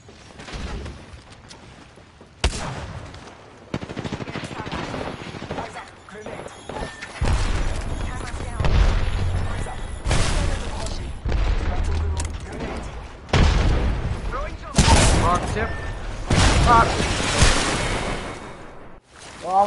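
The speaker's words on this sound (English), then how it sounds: "Opening fire." Bursts of gunfire and booms in Apex Legends, irregular volleys and impacts of varying loudness with a voice talking over parts of the fight.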